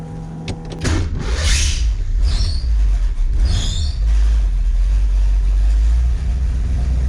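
A 1966 Ford Mustang with a Blueprint 347 stroker engine cranks briefly, fires up, and settles into a loud, deep, steady idle rumble close by, with no talk.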